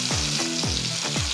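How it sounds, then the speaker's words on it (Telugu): Brinjal masala curry sizzles and fries in oily pan while being stirred, steady hissing broken by three sweeping scrapes of the spoon, close and loud with no voices. "లీనా చూడు, ఇప్పుడు ప్రాపర్ గా అటు ఇటు ఒకసారి తిప్పుదామా?"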